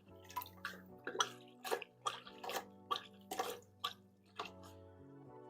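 Water splashes and drips in rhythmic bursts as an aquarium sponge filter is squeezed repeatedly in a container of siphoned tank water, roughly ten close, moderate squishes over a faint steady hum.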